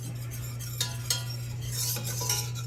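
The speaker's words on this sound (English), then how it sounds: "Got my little whisk going." A small whisk stirring flour into a thick roux in a pan, with quiet scraping and light metallic clicks against the pan over a low steady hum, faint and close.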